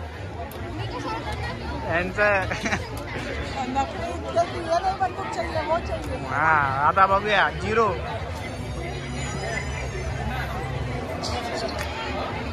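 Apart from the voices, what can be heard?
crowd at the Nirmal fair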